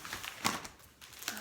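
Plastic packaging bags from a delivered print order crinkle and rustle as they are handled, a few short crackling bursts close by with a quieter pause between them.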